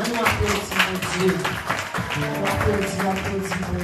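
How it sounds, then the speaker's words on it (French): Applause rings out at a Haitian Baptist church service, a continuous wash of clapping with voices and singing mixed in throughout. "On applaudit mon Dieu."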